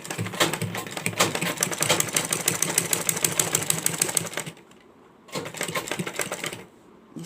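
A home sewing machine with a zipper foot stitches fabric for a pleated turban, running in a fast, steady mechanical rattle for about four seconds, stopping briefly, then running again for a shorter burst, close and clear with no talk.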